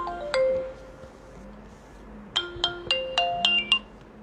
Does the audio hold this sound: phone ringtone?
yes